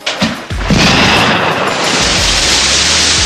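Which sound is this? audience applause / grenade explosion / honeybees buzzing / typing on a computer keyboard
grenade explosion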